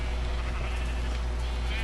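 Sheep bleating in a video game, a wavering bleat over dense, steady background noise, heard close and fairly loud.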